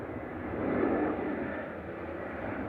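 An Airbus A320 arriving from Paris Charles de Gaulle gives a distant, steady jet rumble that swells slightly and then holds, broad and muffled, with no voices.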